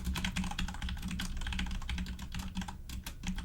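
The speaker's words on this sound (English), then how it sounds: "You're typing." Rapid, steady clatter of keys on a computer keyboard, close by and continuous, with no voices.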